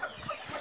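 Chicken clucking inside a henhouse in hot weather, with short, fairly faint clucks and scratchy rustling in a close, noisy coop.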